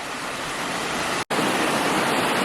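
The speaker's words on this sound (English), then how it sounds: "That's a beautiful creek" Grizzly Creek in Glenwood Canyon rushes in a steady, close, full-bodied wash of water noise that breaks off for an instant midway and then resumes just as loud.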